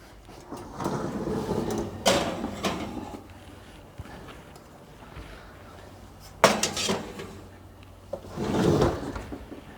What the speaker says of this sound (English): So let me put these in the oven.